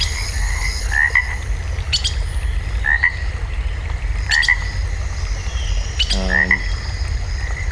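Frogs croak in short bursts a few seconds apart, one a deeper rattling call, over a steady bed of chirping birds and outdoor ambience.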